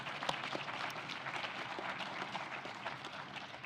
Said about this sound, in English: let's give them all a round of applause too.